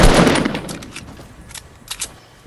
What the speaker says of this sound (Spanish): me están disparando de su lado